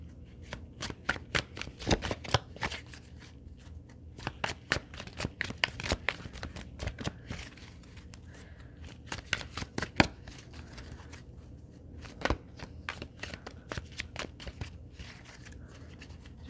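A deck of cards is shuffled close by, with bursts of crisp riffling and flicking interrupted by short pauses, moderately quiet in a calm room.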